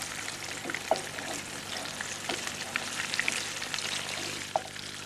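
Cabbage rolls fry in plain vegetable oil, giving a steady, dense sizzle with occasional sharper pops and crackles, close and continuous without any talking.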